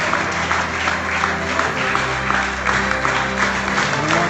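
Rapturous crowd applause fills the air at the Footgolf UK Open trophy presentation, a dense, steady wash of clapping from many hands that carries on without a break, with faint voices mixed in.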